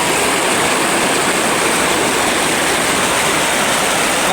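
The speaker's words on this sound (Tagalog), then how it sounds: "Malakas pa yung agos mga ito." Strong current of the Angalakan river rushing past, a loud, steady, close broadband roar of water with no pauses and no voices.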